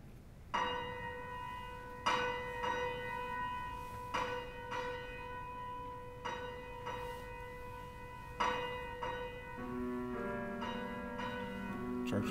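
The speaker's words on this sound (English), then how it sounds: "Church bells." Church bells ring out in a series of loud, resonant strikes at uneven intervals, each leaving a sustained, humming tone that overlaps the next, with no voices.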